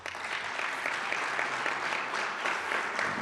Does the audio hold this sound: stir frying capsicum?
no